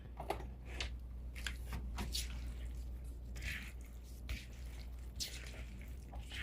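Quinoa salad with feta cheese is stirred in a bowl, giving soft, faint scraping and squishing sounds at an irregular rhythm over a low background hum.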